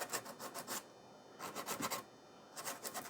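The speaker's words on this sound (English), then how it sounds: "Take the corner of my sanding block. Just kind of rough that area up." A sanding block scrapes across the surface of an X-Fly C-17 RC jet model in three bursts of quick back-and-forth strokes, close up and raspy, separated by short pauses.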